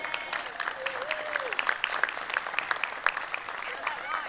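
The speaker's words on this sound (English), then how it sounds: "let's give the models a round of applause" A graduation audience applauds at a Cumberland University master's hooding ceremony, with sustained crisp clapping from many hands that stays steady and fairly loud throughout, with a few voices mixed in.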